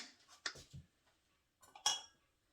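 Fruit scooped with a metal spoon into small 5.5-inch cast iron skillets for peach crisps, a few separate clinks and soft scrapes in two brief clusters with quiet between.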